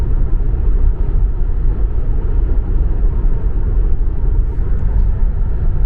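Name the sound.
Tesla Model 3 RWD cabin noise at 110 km/h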